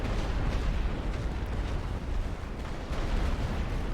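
Heavy artillery fire and explosions in The Great War: Western Front strategy game form a dense, continuous rumble of overlapping booms and blasts throughout, with no speech.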